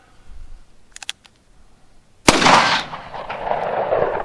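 A single sharp gunshot from a 4-inch barrel revolver firing Federal Punch .38 Special +P hollow-point rounds, preceded by faint clicks, then a loud crack with a decaying echoing tail outdoors.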